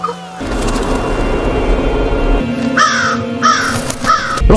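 A crow caws three times in quick succession, harsh and fairly close, following a dark rumbling film soundtrack in a horror scene.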